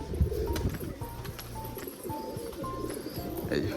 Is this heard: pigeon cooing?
yes